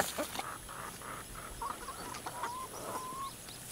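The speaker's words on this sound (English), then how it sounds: "Big chicken." A big farm chicken clucks close by in a series of short, irregular calls and soft murmurs, with a few higher drawn-out notes, fairly quiet and with no talk.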